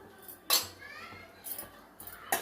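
Spoon stirring sago and moong dal payasam in a metal pot, with a few sharp clinks against the rim and a lid knocking down onto the pot, close and fairly faint.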